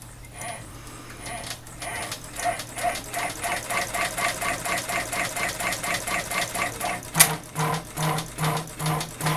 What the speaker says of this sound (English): we're going to go ahead and stitch out the basting stitch so we can secure the background fabric to the embroidery batting